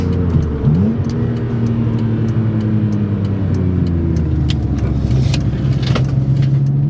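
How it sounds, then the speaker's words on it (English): A BMW E46 M3's exhaust drones and rises in pitch as the engine revs through gears, loud and close, with wind and road noise around it. "all I hear is exhaust."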